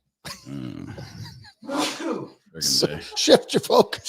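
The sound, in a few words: sneeze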